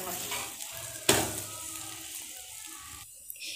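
A bread omelette frying in oil in a pan, a close continuous sizzle broken by a sharp crackle as the bread is flipped, fading lower near the end, with no talk.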